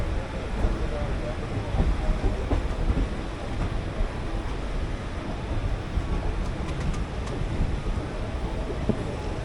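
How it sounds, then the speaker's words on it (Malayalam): Passenger train 56611, Shoranur to Nilambur, rolls by with a loud, continuous broadband rumble and rattle of wheels on track, mixed with wind buffeting on the microphone. "56611 ഷൊർണൂർ നിലമ്പൂർ പാസഞ്ചറാണിത്."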